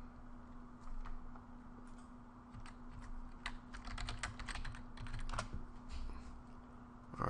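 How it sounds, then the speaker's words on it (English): Close, fairly quiet clatter of keys as a search is typed on a computer keyboard, in irregular bursts over a steady background hum. "So I'm just going to type in weight loss"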